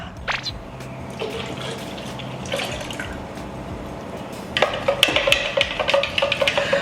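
Fresh milk pours into a Little Home Slushy maker in a steady, close, splashing stream that grows louder and more turbulent near the end.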